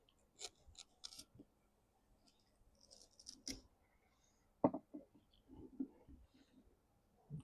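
A Kershaw Iridium knife push-cuts through hard material, giving a few short, dry crunching snaps with quiet pauses between them, close and fairly faint.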